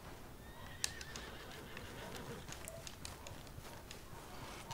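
Horse in Red Dead Redemption 2 gameplay: a short whinny followed by light, soft clip-clop hoofbeats, quiet and somewhat distant under a low ambient game background.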